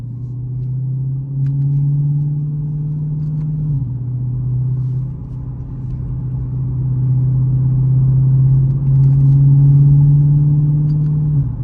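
Dodge Challenger Hellcat engine pulling steadily while driving, a loud, continuous low rumble from inside the car with pitch rising and dropping through gear shifts and throttle changes, no talking.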